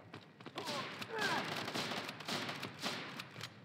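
P416 rifle gunfire in the shooter game Modern Ops, rapid bursts of shots rattling continuously for a few seconds at moderate distance, fairly quiet overall.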